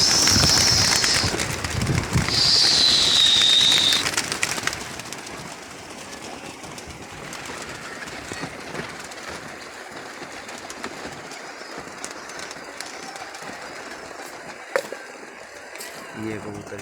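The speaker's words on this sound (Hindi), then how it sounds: "ये कबूतर भी बड़ा अच्छा है।" Pigeons calling outdoors, a couple of high chirpy bird calls in the first few seconds, then soft ambient noise and faint rustle for the rest.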